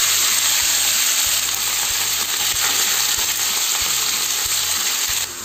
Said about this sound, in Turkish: Etlerimizi yüksek ateşte 2-3 dakika mühürleyeceğiz.